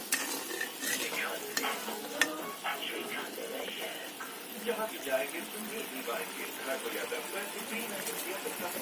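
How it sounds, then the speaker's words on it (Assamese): Sugar melting in a pan while khurma is made, heard as continuous stirring with a soft sizzle and scraping, steady at moderate level with a few sharper clinks of the utensil against the pan. "ইয়াতে চেনি দিলে হৈ গ'ল চেনিখিনি অলপ গলিবলৈ দিছোঁ"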